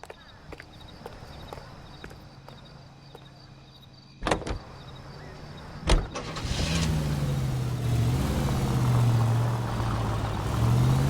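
A car in the video game L.A. Noire: footsteps and door clunks come first, then the engine starts and drives off with a steady rising hum that fills the rest of the stretch.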